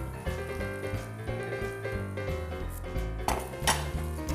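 Egg pancake fries slowly in oil in a pan, with soft sizzling under repeated metallic clinks of utensil against pan and occasional scraping, fairly quiet and close.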